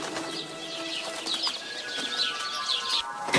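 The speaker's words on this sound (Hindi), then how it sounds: "दूसरे दिन सुबह में कोयल आकर कूकने लगती है।" A koel arrives and calls in a Hindi cartoon, with bird calls and a wing-flapping flutter over a busy, steady background; no one speaks.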